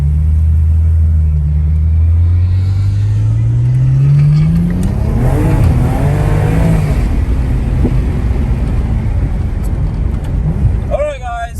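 A race car engine revs and drones loud and close during a race, its pitch climbing steadily then blurring into a roaring pass, with a voice talking over it.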